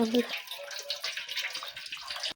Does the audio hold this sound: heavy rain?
no